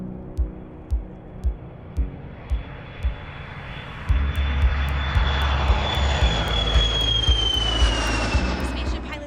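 Virgin Galactic's mothership aircraft Eve, carrying spaceship Unity, drones in flight with a loud, steady jet engine roar and a rising whine. Rhythmic thumps pulse under it throughout.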